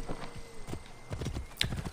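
Horse hooves clip-clop at a brisk, uneven trot in the Assassin's Creed Origins video game, close and distinct, with a brief sharp accent near the end.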